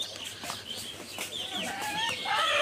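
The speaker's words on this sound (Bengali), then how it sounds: "মুরগি" Chickens cluck and chirp in a rural village yard, fairly faint against a steady outdoor background, with a few short calls rising toward the end.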